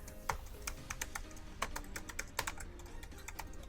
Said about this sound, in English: let's listen to the keys